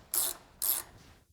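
A hand ratchet tightens a nut on a strut during work on the Mazdarati 2.0 car: two quick, crisp clicking bursts of the pawl, close and clear, with a short pause between them.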